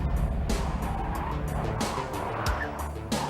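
A powerful car driven into oversteer, engine roaring steadily up close with bursts of tire noise like skidding on tarmac repeating through the few seconds.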